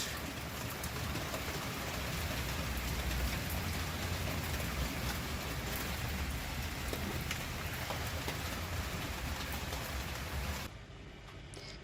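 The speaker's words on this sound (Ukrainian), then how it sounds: "Кому не вистачає дощику, по-моєму, вже у всіх ідуть дощики. І у нас теж." Steady summer rain falls in a village in the Netherlands as a dense, even hiss of drops on surfaces that continues for several seconds before cutting off abruptly near the end.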